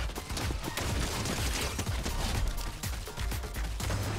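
Dense, continuous gunfire from a character in Fortnite, many overlapping rapid shots and impacts filling the whole stretch at a steady moderate level, with no gaps.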